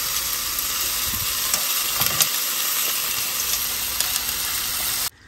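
Chicken pieces for adobo fry in their own rendered fat with no added oil, giving a steady, close, bright sizzle and crackle with small pops that runs unbroken before stopping abruptly.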